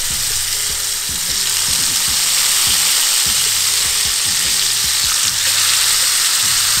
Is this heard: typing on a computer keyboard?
no